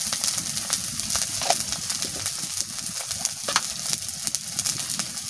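Spice masala with turmeric frying in a pan, a crackling sizzle broken by irregular scraping stirs and sharp ticks from the spatula, close and busy throughout.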